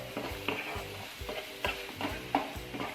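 Onions with salt being stirred and sautéed in a pan, with a soft steady sizzle under repeated scraping strokes of the spoon against the pan, close and fairly quiet.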